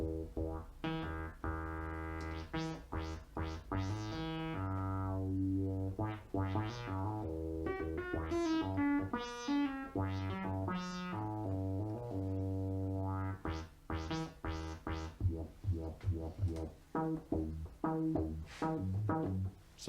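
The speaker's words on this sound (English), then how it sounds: "So that's the sound of the filter." Modular synthesizer at a WMD workshop, with a filter shaping a bright, buzzy melodic sequence whose harmonics sweep up and down, busy and continuous, without talking.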